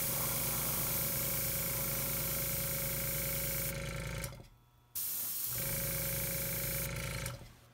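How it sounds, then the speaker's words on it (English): Airbrush compressor running steadily while spraying varnish on a miniature, a loud continuous hiss and hum that cuts out briefly, then resumes, with no talking. "And then the airbrush compressor is about to come on as well."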